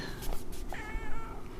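A pet cat meows in a few short, high calls close by against a quiet room, with a low rumble underneath.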